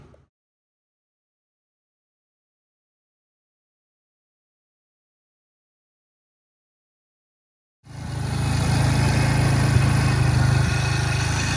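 After a long silence, a small 125cc ATV engine suddenly starts and runs steadily nearby, running a little hard and untuned, a rough, even rumble until the end.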